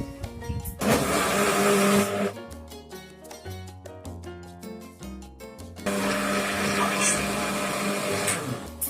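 A blender whirs loudly through a biscuit ice cream mixture, running in two long surges separated by a stretch of pulsing, stuttering motor noise.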